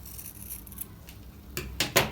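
Scissors snipping hair close to the weft, three quick crisp cuts near the end after a quiet, faintly rustling stretch.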